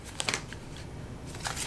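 Tarot cards being shuffled by hand, a few soft papery riffles and flicks with quiet gaps between, close and faint against a low room hum.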